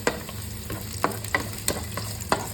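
Garlic cloves fry in sunflower oil in a pan, making a constant close sizzle punctuated by about seven sharp, regular scrapes of a spoon stirring against the pan.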